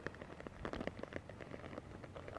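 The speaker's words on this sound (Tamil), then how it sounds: "மழை விடுவானாங்குது, பெஞ்சிக்கிட்டே தான் இருக்குது." Rain falls steadily outdoors on a rainy day, a soft, dense patter of drops hitting surfaces, faint but constant.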